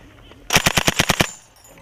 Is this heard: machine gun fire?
yes